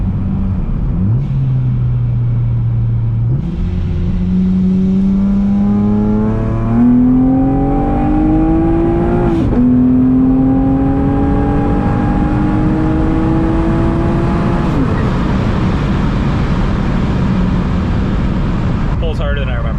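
A boosted Acura TL accelerates hard through a full pull, its engine note climbing steadily through several gears with brief shift breaks, loud and continuous inside the cabin with a constant road rumble beneath.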